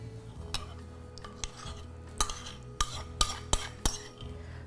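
Chopped fresh sage being stirred into a butternut squash lasagna filling, with a series of sharp utensil clicks and scrapes against the bowl spaced over a low, steady hum.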